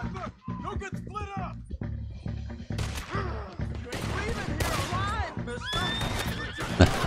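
Horse neighs and whinnies in Red Dead Redemption 2, rising over dense gunfire and galloping hooves, with a player talking over the chaotic mix throughout.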